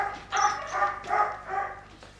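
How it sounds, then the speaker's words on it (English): A dog at a veterinary clinic gives several close, loud barks and yips in quick succession, fading into a quieter whimper at the end. "Control the dog, please?"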